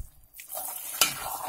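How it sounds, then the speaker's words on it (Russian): Zucchini caviar with tomato paste stirred in a pot as it simmers, a brief close scrape and bubbling sizzle with one sharp clink of the spoon against the pot. "Все перемешиваем и еще оставляем покипеть."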